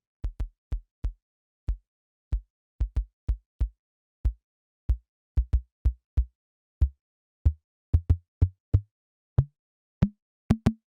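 A KORG KPR-77 drum machine tom voice with its pitch raised to the top of its range plays about two dozen short, dry hits in an uneven rhythm, the later hits sounding noticeably higher and more tonal.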